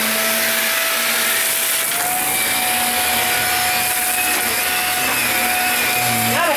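A Shark Rocket Professional vacuum cleaner runs loud and close with a steady motor whine and airflow roar, holding one pitch throughout with a slight shift near the end.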